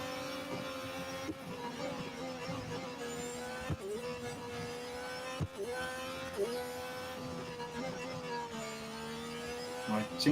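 F1 race car engines in the Real Racing 3 video game whine steadily at high pitch, rising and dipping with gear changes, with occasional bumps and clicks over a constant drone.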